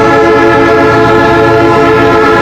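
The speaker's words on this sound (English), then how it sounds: "6228 is an ex-Grand Trunk Western GP 38-2, built by Electromotive Division" An ex-Grand Trunk Western EMD GP38-2 diesel locomotive sounds very loud and close, its horn holding a sustained harmonic blast over the engine's low rumble.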